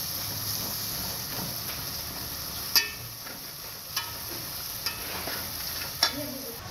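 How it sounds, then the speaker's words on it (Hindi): Spice masala frying in oil in a pan for a bottle gourd and meat curry, giving a soft steady sizzle under a hiss, with four sharp spoon taps and scrapes at irregular gaps, close and fairly quiet with no talking. "अच्छे तरीके से भुनाई करवा देंगे मसाले की।"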